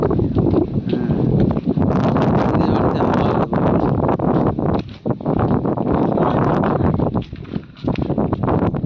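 Wind blows outdoors in a sunny village spot, a loud continuous rumbling buffet against the microphone with brief dips.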